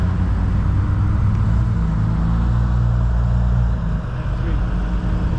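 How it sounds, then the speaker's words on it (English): BMW cars, including an M3 and an X5, rev hard and sweep past on the Nurburgring circuit, a steady loud engine drone with rising and falling rumble as they go by, and people talk over it. "More Beamers coming around."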